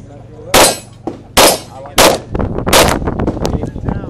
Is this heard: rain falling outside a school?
no